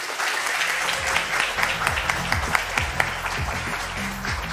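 A large audience applauds at the ceremony naming BTS ambassadors for the Busan 2030 World Expo, dense sustained clapping with scattered sharp claps and a faint voice underneath.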